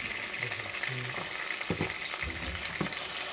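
Pork steaks seasoned with salt, paprika and pepper frying in a pan, a steady close hissing sizzle with a few soft scrapes and taps of a utensil.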